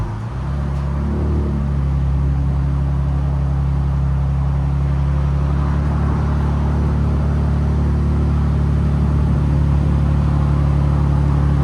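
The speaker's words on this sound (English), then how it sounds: "That's what a muffler delete sounds like on a Tundra. 1794. That was a cold start." A Toyota Tundra 1794 Edition with a 3.4L twin-turbo V6 and muffler delete idles after a cold start, giving a loud, steady, close low rumble that holds without pause and carries no speech.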